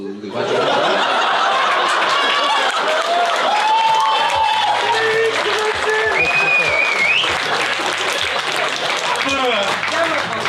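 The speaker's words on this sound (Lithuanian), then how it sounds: "mes plojam Laurinui Maibakas" An audience claps loudly and steadily throughout, with scattered chuckles and laughter mixed into the sustained applause and people talking over it.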